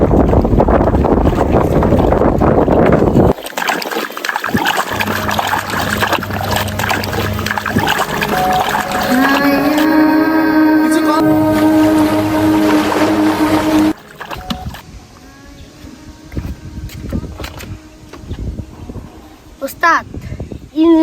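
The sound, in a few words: boat engine running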